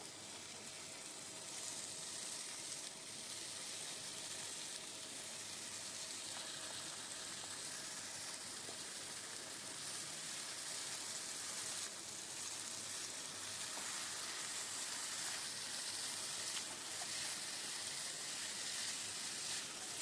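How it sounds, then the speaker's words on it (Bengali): Marinated chicken pieces with ginger and garlic, frying in oil in a pan for chicken makhani: a steady, close, hissing sizzle that continues throughout with no talking. "চিকেনের যে পিসগুলো আমি ম্যারিনেট করে রেখে দিয়েছিলাম এটা দিয়ে আমি এবার এটা ভাজা ভাজা করবো"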